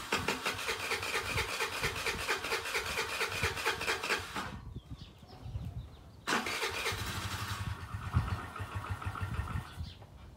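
Chinese 50cc scooter engine being cranked by its electric starter after carburetor work: two long bursts of rapid churning cranking with a short pause between them, close and fairly loud, with no catch into running.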